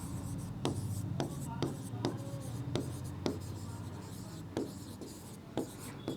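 Pen writing out a statistics answer by hand, a steady scratchy scribble broken by regular sharp taps every half second or so, close and clear under faint background hum.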